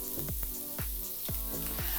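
Thai-style beef satay skewers sear on a hot grill, giving a steady close sizzle broken by a few sharp low thumps and clatters as the sticks are turned, with no voices.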